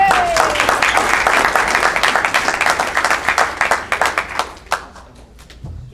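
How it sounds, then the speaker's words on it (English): An audience at a county Republican committee meeting on the Second Amendment applauds a speaker. Loud, dense clapping thins out into scattered claps over several seconds. "Don't applaud, you don't know what I'm going to say."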